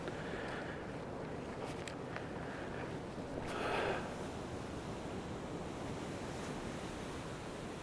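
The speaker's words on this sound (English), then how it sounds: "it's not. It's waves crashing" Ocean waves crash on the rocky Big Sur shore as a continuous, distant roar that sounds faint and steady. One surge swells slightly louder midway, with some wind rushing over it and no voices.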